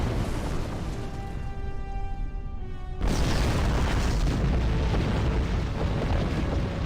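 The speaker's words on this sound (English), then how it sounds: "The explosions look really good." Deep booming explosions in the Star Trek Online space game, loud and continuous, with a sharp, heavier blast about midway that fills the sound with a dense rumble.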